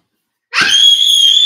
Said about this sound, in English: My son just screaming.